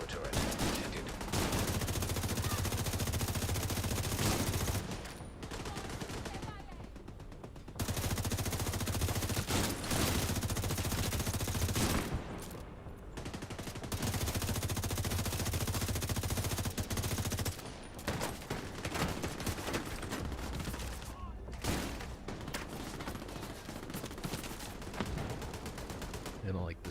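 Hostile sniper turret fire in a video game, dense bursts of rapid gunshots lasting several seconds each, separated by short gaps, fairly quiet overall.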